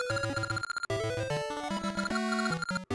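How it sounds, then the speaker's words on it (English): Chiptune game sound for the kangaroo Ricky in The Legend of Zelda: Oracle of Ages, a fast, busy run of bright square-wave notes with bouncy bass blips and short gaps, loud and close, without voices. "It's Ricky! That's the only kangaroo that sounds like this."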